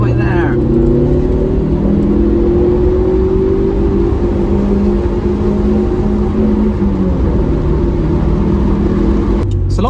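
A Toyota MR2 MK1 revving hard on a road test, the loud engine note climbing and falling through gears with a steady rumbling drone throughout.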